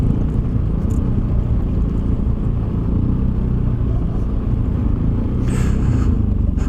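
Zontes ADV 368 G adventure scooter ridden offroad, a steady low engine rumble with wind and road noise close up, constant and loud with no talk.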